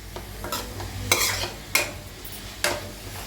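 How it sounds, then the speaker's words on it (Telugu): Chilli, mint and coriander are stirred into mutton biryani in an electric rice cooker, with four distinct scraping strokes of a utensil against the pot over a faint sizzle, close and without talk. "మిర్చి, పుదీనా, కొత్తిమీర మిక్స్ చేయాలి."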